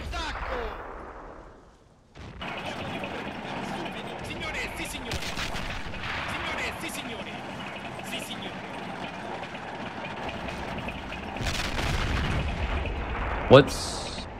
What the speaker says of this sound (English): there's BT-7A shooting me